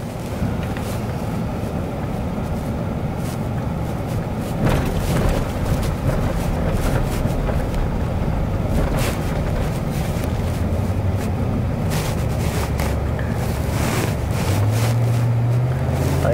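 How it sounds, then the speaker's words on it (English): A car on a driving tour through a hilly San Antonio subdivision fords a small creek, giving a steady loud rumble of tyres, water and wind noise from inside the vehicle with a few bumps, and no voices. "Gotta cross this little creek here."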